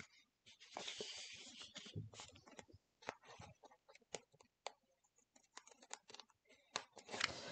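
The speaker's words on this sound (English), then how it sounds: "then I will trim with my scissors" Scissors trim paper for a scrapbook page in a series of short, crisp snips and rustles, some in quick clusters, spaced by brief pauses.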